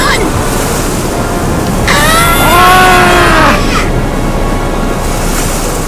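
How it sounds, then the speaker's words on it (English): A large ocean wave crashes down in a storm at sea, a loud, roaring wash of surf and wind that swells midway while voices scream over it. "The wave crashed down on top of them, and both Skiff and Jim went under the rough"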